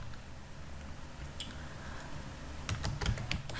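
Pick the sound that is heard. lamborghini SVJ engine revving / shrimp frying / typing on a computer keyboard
typing on a computer keyboard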